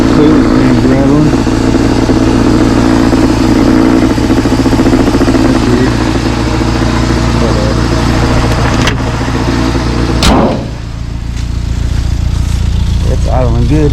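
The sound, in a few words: first-gen Toyota 4Runner engine idling with rattle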